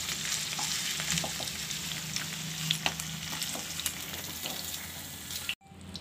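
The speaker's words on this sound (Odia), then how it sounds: "ଏବେ ମୁଁ ଏପଟ ପକେଇ ଫ୍ରାଏ କରିନେଇଛି ଦେଖିପାରିଥିଲେ ଆପଣମାନେ ପନିର ଚେଞ୍ଜ ହେଲାଣି ଗୋଲ୍ଡେନ୍ ବ୍ରାଉନ୍ କଲର୍ ହେଇଗଲାଣି" Paneer cubes frying in oil in a kadai, a steady close crackling sizzle with scattered pops and stirring clinks, cutting off abruptly near the end.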